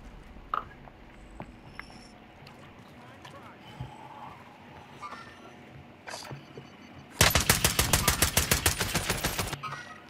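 Gunfire in a video game: after scattered quieter in-game sounds, a loud rapid burst of automatic fire, roughly twenty evenly spaced shots over about two seconds, ringing out near and alone.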